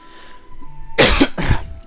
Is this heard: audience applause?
no